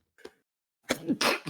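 A faint sniff, a pause, then a loud, close sneeze in two or three bursts with a gasping lead-in.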